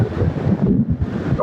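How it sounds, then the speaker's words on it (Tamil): Ocean waves breaking on Kankesanthurai (KKS) beach in Jaffna, Sri Lanka, a steady low rumbling surge with wind buffeting the microphone throughout, no voices. "என்னன்னு சொன்னா அலை வந்து கூட அடிக்குது பாருங்க."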